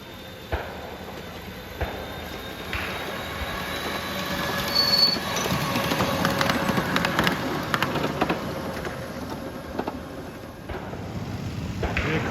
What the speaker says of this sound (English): Here comes Thomas the tank engine